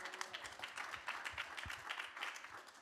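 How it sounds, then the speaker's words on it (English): Light, sparse applause from a panel-discussion audience on public film funding, faint and somewhat distant, with scattered individual claps rather than a full ovation. "Maybe an applause, no?"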